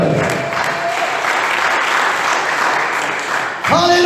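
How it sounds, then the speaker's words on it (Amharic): A church congregation claps in loud, sustained applause that fills the room, and then a voice starts speaking at the very end. "አጨብጭቡ በደንብ በደንብ"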